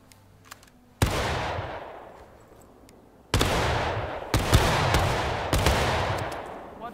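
Musket volleys from massed infantry in the Civil War battle game War of Rights: two loud, ragged bursts of overlapping shots, each trailing into a long rolling echo, the second followed by further scattered shots.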